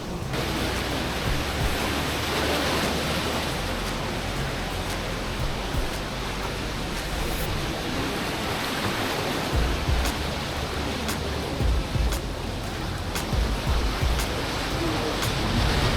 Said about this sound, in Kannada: ಸಿಕ್ಕಾಪಟ್ಟೆ ತೆರೆ ಬರ್ತಿದೆ ಸಮುದ್ರ ಸಿಕ್ಕಾಪಟ್ಟೆ ವೈಲೆಂಟ್ ಆಗ್ಬಿಟ್ಟಿದೆ